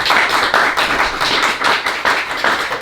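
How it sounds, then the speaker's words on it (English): An audience at an author event for D. Watkins claps steadily, a dense, loud patter of hands that stays even across a few seconds with no voices. "Give him a round of applause."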